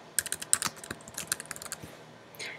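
Brief burst of typing on a computer keyboard while entering a file name in design software, a quick irregular run of close key clicks followed by a softer pause.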